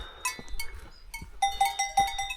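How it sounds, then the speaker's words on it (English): Cowbells clank on cows grazing across a mountain pasture, several bright metallic rings sounding in irregular bursts at moderate distance, loosely overlapping as the animals move. "Hardly ever hear cowbells."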